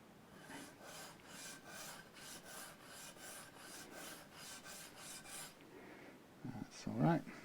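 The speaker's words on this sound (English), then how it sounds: "And then I'll just sand it off a bit." A small flange part for an Epiphone Les Paul Junior is sanded with rhythmic back-and-forth rasping strokes, close and moderately loud, then stops and gives way to a few brief handling knocks.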